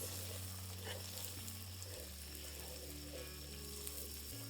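Semolina roasts in a pan with a soft, steady sizzle and faint stirring scrapes, quiet and continuous with no voices.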